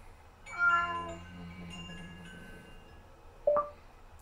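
A cat meows: one drawn-out, wavering meow up close, then a short, sharp second meow a couple of seconds later, over a quiet background.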